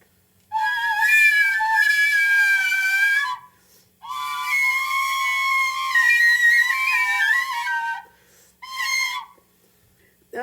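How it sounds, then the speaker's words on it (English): A penny whistle plays a bright, reedy melody in two long phrases and a short one, close and clear, with silent gaps between them. "It's a penny whistle."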